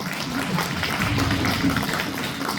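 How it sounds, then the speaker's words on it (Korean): Indoor audience applause at a Democratic Party members' rally in Cheongju, a dense steady wash of clapping from a crowd that carries on evenly throughout. "큰 박수 좀 부탁드리겠습니다"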